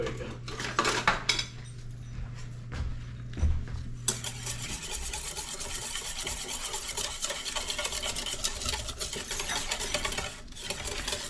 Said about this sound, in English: And we just whisk everything together.